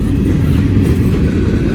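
A Norfolk & Western locomotive train passes close by with a loud, continuous, heavy rumble and rattle, with no voices.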